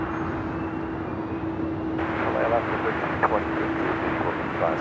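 An Airbus A380 airliner at Los Angeles LAX airport gives off a continuous, distant jet roar that swells partway through, with voices talking over it.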